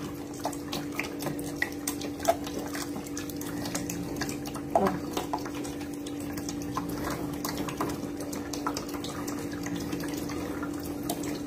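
Water bubbling and gurgling through a drinking straw set out for a cat to drink, a steady trickle with small irregular plops and drips over a faint hum, with a brief exclamation partway through.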